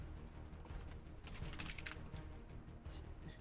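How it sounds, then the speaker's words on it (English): Rapid typing on a computer keyboard comes in uneven bursts of light clicks, close and fairly quiet, with no talk over it. "Oh, he's typing something."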